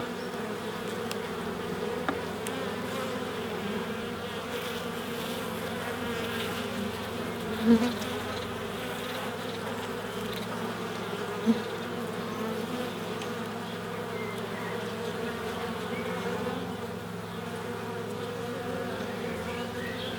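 A dense, steady hum of honey bees rises from an opened hive at a UK apiary, many wings droning close by without a break, with a few soft knocks from frames.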